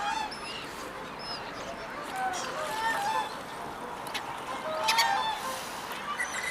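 Waterbirds honk and call from a nearly frozen pond in winter Reykjavik. Scattered, fairly distant cries rise over a low outdoor murmur, bunching up now and then.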